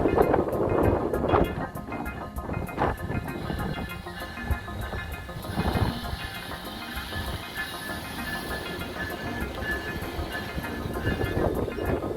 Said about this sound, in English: Ray is going to pass this train here in New Haven, heading up to Boston